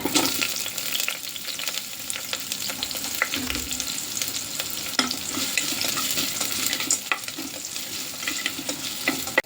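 Onion with whole spices such as cinnamon and cardamom frying in ghee in a pan for mushroom biryani, giving a steady close sizzle with occasional stirring scrapes and no talk.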